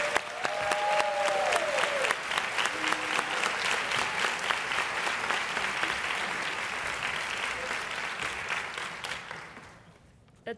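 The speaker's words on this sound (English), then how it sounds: "for another round of applause" An audience at a school graduates-of-distinction ceremony applauds honored students, dense steady clapping from a crowd in a hall that fades away near the end.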